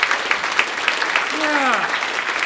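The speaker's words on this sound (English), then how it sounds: "Round of applause for them, everybody, come on" A comedy club crowd at Comedy On State applauds with dense, continuous clapping, and a single rising whoop or cheer rings out partway through.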